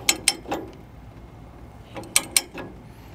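A Durabuilt ratcheting chain binder with a removable handle is cranked to tighten a chain, giving crisp metallic ratchet clicks in two close pairs, loud and near, with a gap between them.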